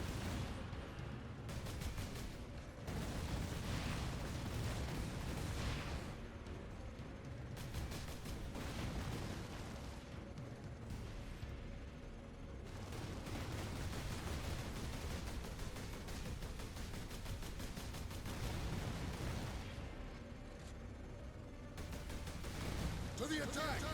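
Gunfire and battle noise from the Warhammer 40k Space Marine video game, a dense, continuous barrage of shots and explosions filling the whole stretch with only brief lulls.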